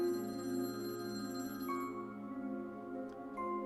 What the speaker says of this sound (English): the silence was broken by the sound of the phone ringing